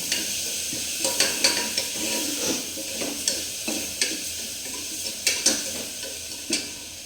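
Ginger, garlic and shallots sizzle in a hot pan while a spoon stirs them, giving a steady close frying crackle punctuated by regular sharp scraping clicks roughly every half second, with no voices.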